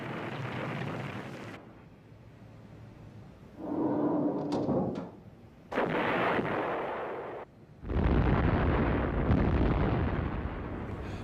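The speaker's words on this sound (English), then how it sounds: "Operation Crimp began with massive airstrikes and artillery bombardments" Vietnam War airstrikes and artillery bombardment: loud, rumbling bursts of explosive noise arrive in several heavy waves, separated by short quieter gaps.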